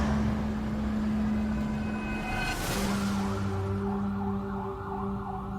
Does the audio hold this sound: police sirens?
yes